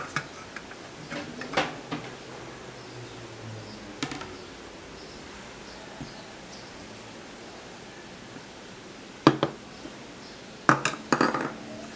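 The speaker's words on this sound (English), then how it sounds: "let's chop this one" A knife chops spinach and tomato on a cutting board, giving a few sharp separate knocks near the start and a quick cluster of taps near the end, with quiet room tone in between.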